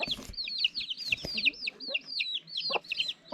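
Hens cluck in quick, repeated bursts with bright peeps from chicks scattered throughout, close by and fairly lively.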